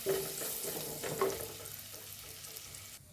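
Curry leaves and garlic sizzle in hot oil in a pan for an okra masala, a loud, close frying crackle with brief stirring bursts that quiets after a few seconds.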